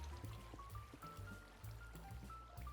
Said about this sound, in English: I got to put some water here.